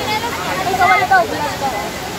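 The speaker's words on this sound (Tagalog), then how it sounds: "nandito na kami sa Taytay Falls" Steady rushing roar of a waterfall at Taytay Falls in Laguna, a continuous wash of falling water close by, with voices talking over it.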